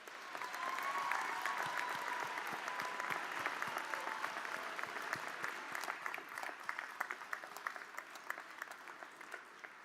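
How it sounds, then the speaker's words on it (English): A commencement crowd gives the graduates a long, even round of applause in a large hall, many hands clapping in a broad continuous wash that stays steady throughout. "Let's give them one heck of a round of applause"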